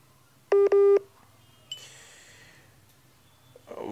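Two short telephone dialing tones beep in quick succession on a live TV call-in line. A crackling line disturbance follows, then a rising burst of noise at the end.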